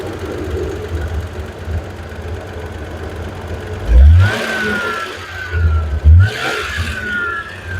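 The EFI engine of a 1980s Ford ZL Fairlane idles at operating temperature, then revs sharply on the throttle twice. Each rev swells loudly and drops back to a steady, close idle.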